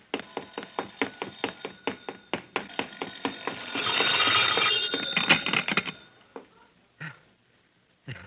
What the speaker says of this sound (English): Jack, Jack, that's your phone ringing.